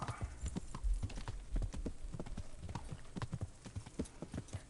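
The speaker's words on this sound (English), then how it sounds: "I got my own horse." Rhythmic clip-clop of horse hooves in the video game Kingdom Come: Deliverance, many quick steps in a steady trotting pattern, close and fairly clear with light background noise.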